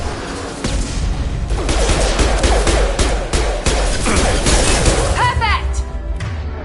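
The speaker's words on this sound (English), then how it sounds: "Firing now." Gunfire in Mass Effect 2, a loud, sustained burst of overlapping shots and impacts filling most of the stretch, with voices talking over the din.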